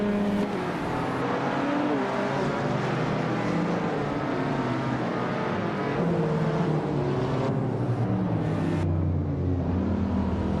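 BMW 850CI race cars in a video game roar on without a break, engines droning and shifting pitch as several cars race together, loud and close with no pauses.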